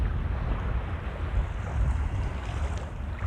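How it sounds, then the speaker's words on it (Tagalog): Steady roar of wind and rushing sea water around a fishing boat at sea in strong waves, broadband and continuous, with heavy low rumble and no voices. "malakas ang alon"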